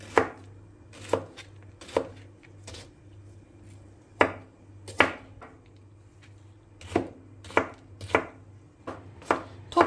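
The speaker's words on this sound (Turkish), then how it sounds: "Biberlerimi incince doğrayıp hazırlıyorum." Jalapeño peppers chopped thinly on a cutting board for pickling, a steady run of sharp, close knife taps in uneven rhythm, loud and distinct with no talk.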